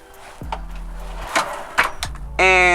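A few short sliding knocks and rattles, then a brief mechanical whir near the end, close and moderately loud.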